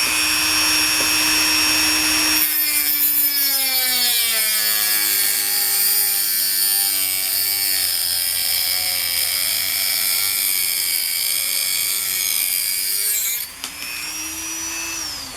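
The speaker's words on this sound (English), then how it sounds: "we did go through it fine with the Dremel, but definitely not as quickly as we did with the grinder" A Dremel-brand rotary tool whines at high pitch as it cuts through material, its tone dipping and wavering under load for about eleven seconds before spinning back up free.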